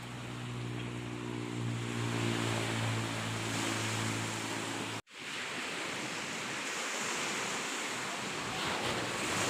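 Surf rolls onto Palima beach at Ambon as a steady, fairly faint wash of waves with wind noise, a brief dropout midway and a low hum fading out early on.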